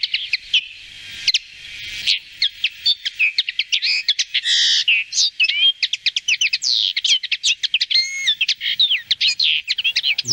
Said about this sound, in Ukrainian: Це коноплянка.